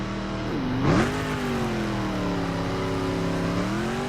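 A car engine in the racing game The Crew revs and accelerates on dirt, a loud sustained tone that dips, surges sharply, then settles into a steady drone.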